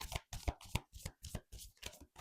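Tarot cards being shuffled by hand in quick, rhythmic riffling bursts, close and distinct, with brief pauses between the runs.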